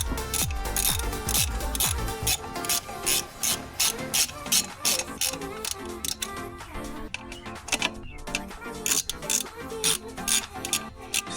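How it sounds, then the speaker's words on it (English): Ratchet wrench tightening bolts on a Ford Bronco, producing rapid, steady clicking strokes that repeat close by and loud for the whole stretch, with no talking over it. "Then we'll take our wrench"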